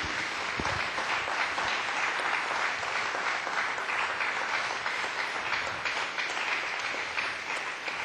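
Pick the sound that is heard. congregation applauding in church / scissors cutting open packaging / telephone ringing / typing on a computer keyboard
congregation applauding in church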